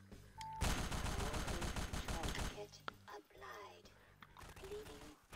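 Automatic rifle fire in Garry's Mod from Spastik's Toybox, a loud sustained burst of rapid shots lasting about two seconds, followed by softer clicks and handling sounds with someone speaking quietly.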